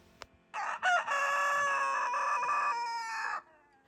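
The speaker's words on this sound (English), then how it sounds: "our family was greeted by a powerful crow echoing through the trees" A rooster crows at dawn: a short click, then one loud, drawn-out cock-a-doodle-doo close to the listener, with a strained rising start and a long held ending, under a quiet background.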